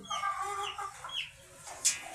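An Aseel rooster clucks and warbles up close, a few short throaty calls followed by a sharp high squawk near the end, with no talking.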